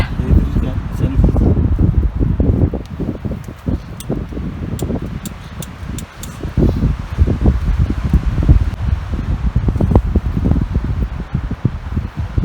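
Strong mountain wind gusting in the Kaz Mountains near Balıkesir in winter, a loud, buffeting low roar that batters the microphone and surges in waves throughout, with no clear speech above it.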